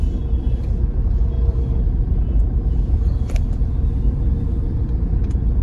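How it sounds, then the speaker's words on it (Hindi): A Delhi Metro train pulls away from Haiderpur Badli station with a heavy, steady low rumble, loud and continuous, with a couple of brief squeals over it. "वो चल पड़ी है मेट्रो"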